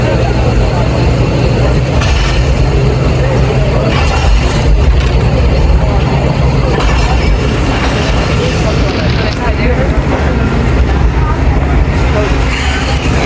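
Jaffar Express passenger train pulling out of Rawalpindi station, a loud continuous rumble of wheels and carriages with metallic knocks and clatter, voices faintly present beneath the noise.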